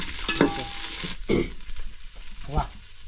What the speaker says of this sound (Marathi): पहिला फ्लॉवर भाजून घेतो फ्लॉवर